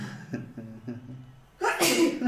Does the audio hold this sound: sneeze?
yes